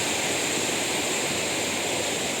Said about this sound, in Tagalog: Ayan na, bumuso na naman yung malakas na ulan.